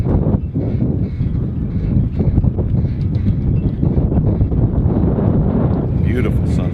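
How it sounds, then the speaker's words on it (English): Strong gusting wind buffets the microphone aboard a sailboat at sunset, a loud, continuous low rumbling roar that stays dense and unbroken for several seconds. "the wind is just like crazy right now"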